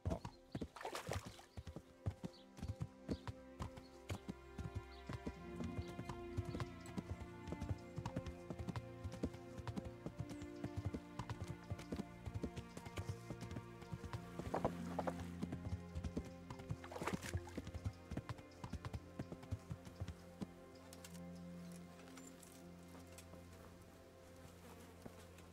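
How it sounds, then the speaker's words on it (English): Rhythmic hoof clip-clop of a ridden horse in the medieval game Kingdom Come: Deliverance, steady gait with buzzing insect ambience and occasional louder thumps, fading slightly toward the end. "Let's go by horse."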